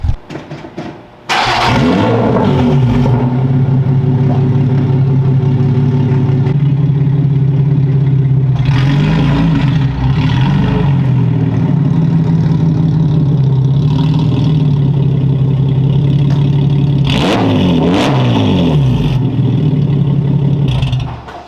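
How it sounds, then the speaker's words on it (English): A Lotus Evora 400 engine starts with a sharp burst, then idles steadily and close by with a low, even drone, revving a few times as the car is driven into a garage; no one speaks. "let's pull the car in the garage"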